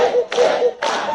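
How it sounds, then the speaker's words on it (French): Hands clapping in applause, loud and close, in three broad, dense bursts of claps within about a second. "Applaudiamo."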